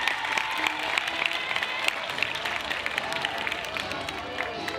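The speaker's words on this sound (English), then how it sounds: "Can I have a round of applause for grade 72?" A round of applause for grade 72 at a primary school valedictory, steady clapping from a crowd in a hall at moderate, somewhat distant loudness, with faint crowd murmur and occasional distinct claps.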